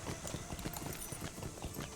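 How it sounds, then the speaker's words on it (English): Hoofbeats of a boar mount trotting in the online game Lord of the Rings Online, a quick steady clip-clop of footfalls over a busy, dense game soundscape, with no clear talk. "he's riding a boar instead of a horse"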